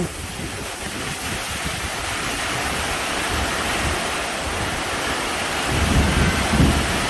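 Midday rain pouring steadily over rice fields, a loud continuous wash with low thunder rumbling and swelling toward the end, no voices.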